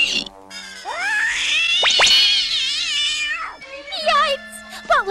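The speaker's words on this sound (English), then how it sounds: "It sounded like a cat." A cartoon cat lets out a long, loud, rising-and-falling meow, then a few shorter wavering meows after a brief pause, heard clearly on its own with no one talking over it.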